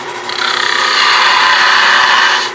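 Thick detail gouge cutting wood on a spinning lathe while turning a wooden box, giving a loud, close, continuous scraping rasp for a couple of seconds, with no talking.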